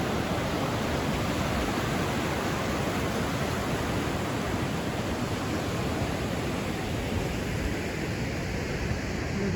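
Roaring Pacific Ocean surf at Ucluelet breaks onto the beach at sunset, a dense, unbroken wash of crashing waves heard loud and close throughout with no voices.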